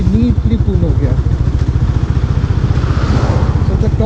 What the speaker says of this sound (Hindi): अभी थर्ड गियर में यहाँ से एकदम ज़ीरो से स्टार्ट करने का कोशिश करके देखते हैं होता है कि नहीं